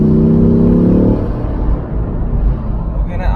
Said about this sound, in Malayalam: നമുക്ക് എഞ്ചിൻ വരുന്ന സൗണ്ടൊക്കെ നമുക്ക് അത്യാവശ്യം നല്ല രസകരമായിട്ട് ആസ്വദിച്ച് നമുക്ക് ഓടിച്ചു പോകാം.